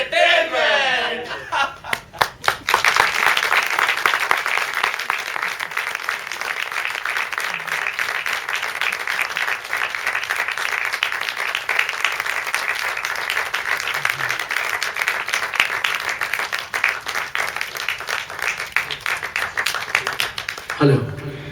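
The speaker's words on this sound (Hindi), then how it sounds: "सर्वप्रथम बहुत बहुत शुक्रिया आपकी तालियों का।" A theatre audience gives sustained applause for about twenty seconds, dense and steady after a few scattered opening claps, with a voice audible briefly at the start and end.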